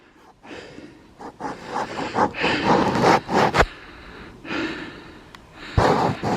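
A hiker pants heavily while climbing a steep bank on Lothwaite Fell, with close, loud, uneven breaths and gasps, rustling and scraping between them, and no speech.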